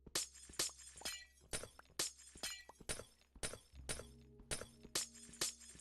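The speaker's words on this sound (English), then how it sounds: "I really do hate the sound of breaking glass" Glass blocks shattering in Minecraft during work on an ocean monument, a rapid series of about a dozen sharp crashes at a fairly even rhythm, each followed by a short tinkling tail.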